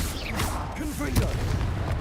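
A Confringo blasting curse bursts with a sharp boom in Hogwarts Legacy amid spellcasting and magical whooshes, the single blast landing near the middle while a player talks over the action.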